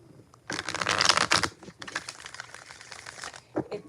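Tarot cards are shuffled by hand in bursts of crisp riffling and flicking, the loudest from about half a second to one and a half seconds, followed by softer card handling and a few taps.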